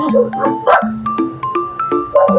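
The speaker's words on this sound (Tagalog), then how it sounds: "Natahol na naman ang aking aso" A dog barks in a series of short, loud, close yips and woofs, about eight in quick irregular succession, heard during home cooking of a chicken dish, with no talk over it.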